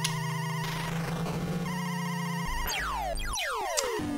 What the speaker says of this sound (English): Mobil ringtone.